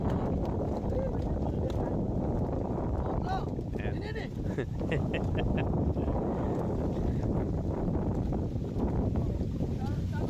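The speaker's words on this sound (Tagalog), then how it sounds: "tingnan yung lakas ng ulan, no?" Heavy rain pours in a dense, continuous hiss throughout, with brief faint voices and clicks heard under the downpour.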